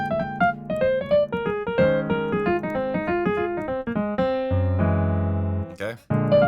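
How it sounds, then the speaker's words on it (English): Piano playing a Lydian dominant scale with a raised fourth and flat seventh, notes climbing and falling over sustained chords, ending on a held low chord and a brief final strike, clear and close. "That's the sound of the Lydian dominant."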